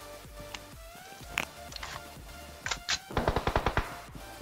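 Gunfire in PUBG Mobile finishing off a knocked enemy: a few scattered shots, then a quick run of about eight evenly spaced tapped shots, close and sharp.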